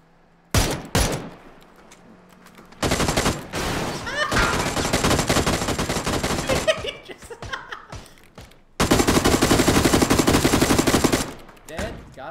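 Bursts of automatic gunfire in a tactical shooter video game, loud and close, with a short burst near the start, a long sustained stretch in the middle and another heavy burst later, separated by brief quieter gaps.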